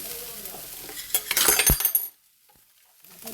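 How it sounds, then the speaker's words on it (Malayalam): Grated coconut roasting with sugar in a pan, stirred with a utensil that scrapes and clinks loudly for a couple of seconds before the sound drops to near silence. "തേങ്ങ നല്ല പോലെ ഒന്ന് പഞ്ചസാരയിൽ വറവായി വരട്ടെ പഞ്ചസാര ഒക്കെ നലിഞ്ഞ് കിട്ടട്ടെ"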